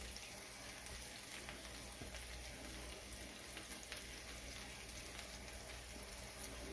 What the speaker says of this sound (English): So we just gonna allow this to sear.